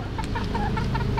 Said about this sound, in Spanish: Miren esta pobre gallina.